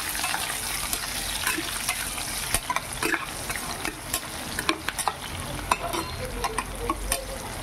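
Mustard seeds, cumin and curry leaves frying in hot oil, a steady broadband sizzle with scattered sharp pops and crackles and occasional stirring clicks throughout, no talking.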